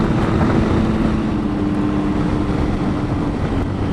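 A Triumph Tiger 800 XCx motorcycle cruises steadily, its engine drone blended with loud, continuous wind rush from riding at speed, with no breaks or shifts.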